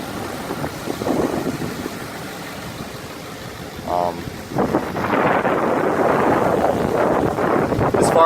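The 5-liter engine of a 2011 Ford F-150 XLT SuperCrew runs with the hood open, a low idle hum that swells into a louder, steady broadband roar partway through, with wind noise on the microphone.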